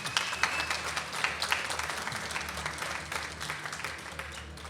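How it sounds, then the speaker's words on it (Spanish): Audience applause at a church-linked evening gathering, dense continuous clapping from a crowd with a few sharper individual claps standing out, steady throughout. "Vamos a aplaudirle igual."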